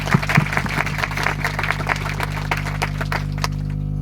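A church congregation claps hard at a New Year worship service. The dense applause runs steadily throughout over a strong low hum from the sound system.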